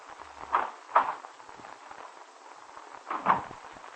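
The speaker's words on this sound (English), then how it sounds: "as he heard the door open" A door opens as a sound effect in an old-time radio drama, set in a sweet shop, with a few soft wooden knocks and creaks spread over several seconds against a quiet background.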